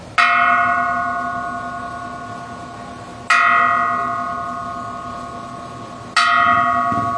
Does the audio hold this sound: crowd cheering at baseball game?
no